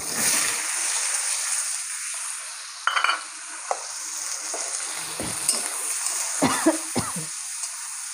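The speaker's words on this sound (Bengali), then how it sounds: "পেঁয়াজ, কাঁচা লঙ্কা, টমেটো কেটে রেখেছিলাম, এগুলো তেলে ভেজে নেব।" Chopped onion, green chili and tomato fry in hot oil in a wok, starting as a loud, broad sizzle that fades into a softer hiss with scattered spoon clinks and stirring.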